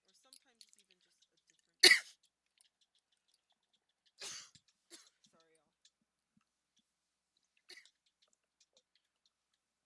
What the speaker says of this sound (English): Sorry, coughing fit.